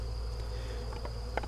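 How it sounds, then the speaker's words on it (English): Honey bees from a package colony fly out of a tote, making a steady, dense buzz close by, with a few faint taps near the end. "a lot of bees have started flying out of this tote"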